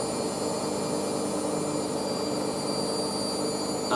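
A new washing machine on its wash spin at about 800 RPM gives a steady, loud, even whirring roar with a faint high whine, unbroken for the whole stretch, no voices.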